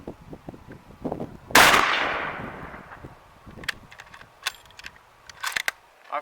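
A single loud 8mm Mauser rifle shot firing a PPU 196-grain soft point round cracks sharply with a long decaying tail, followed by fainter clicks and small handling noises at a shooting range.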